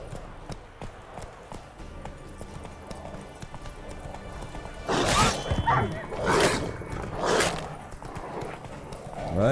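Horse hooves clip-clopping in The Witcher 3, a steady trot that grows louder in the second half, with a few sharper bursts over a dim game soundscape and occasional wolf-like yips nearby.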